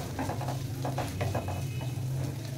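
Boiled potatoes and green chillies frying in a pan, with a steady close sizzle and spoon-stirring scrapes and taps throughout.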